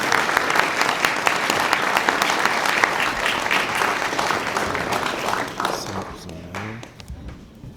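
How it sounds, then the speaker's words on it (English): Warm, full applause fills a conference hall at the LEAD 2026 closing session for senior staff and volunteers. It stays strong for several seconds, then tapers off as a voice begins speaking near the end. "Round of applause to our senior staff and volunteers."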